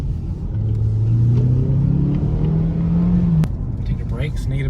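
A Ford Focus engine pulls steadily during a test drive, with a low rising drone as it accelerates through the gears. The hum then settles and is followed by faint background sounds.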